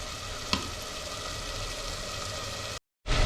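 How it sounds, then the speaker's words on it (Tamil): Onions and tomatoes sauté in a pan for country chicken curry, giving a steady, close frying hiss with a brief utensil knock early on before a short dropout. "தக்காளி நல்லா வதங்கி வரணும்."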